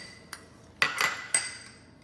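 Spoons clinking against bowls while farro and toppings are served into a Greek-style farro bowl, a few sharp, close metallic clinks with quiet gaps between them.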